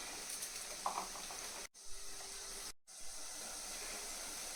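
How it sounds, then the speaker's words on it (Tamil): Small onions, garlic and tomato sauté in a pan, producing a soft continuous sizzling hiss broken by two abrupt silent gaps, with faint stirring clinks heard close by. "இப்போ ஒரு தக்காளி இதுக்குள்ளே போட்டுருக்கு, நல்லா வணக்கிட்டு இருக்கு"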